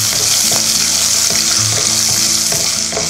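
Cashews frying in a pan for vegetable pulao give a loud, close, continuous sizzle with repeated stirring scrapes and clinks throughout, and no talk.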